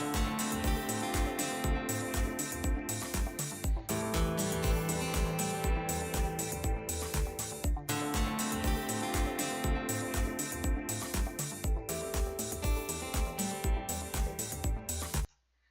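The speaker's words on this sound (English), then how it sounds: "So now that feels more like an actual fluid kind of loop" A music loop arranged in Music Maker Jam plays steadily with a regular beat and layered synth and drum parts, repeating sections for about fifteen seconds before cutting off abruptly, no voices.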